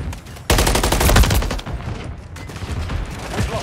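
Dense automatic gunfire crackles in a video game firefight, a sustained loud burst of rapid shots that thins into scattered, slightly more distant fire.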